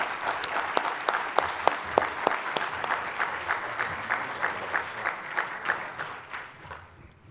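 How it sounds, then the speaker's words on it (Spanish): A conference audience at a national electronics-industry convention applauds the arriving governor, giving fairly strong, even clapping with distinct individual claps standing out, fading gradually over seven seconds. "Pido un aplauso"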